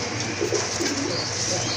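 Fancy crested pigeons coo in soft, low, rounded bursts that repeat at an uneven pace, close by and steady against a constant background hum.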